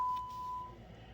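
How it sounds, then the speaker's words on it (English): A single steady electronic beep from car key programming, sustained for about half a second against quiet background hiss. "Got our beep."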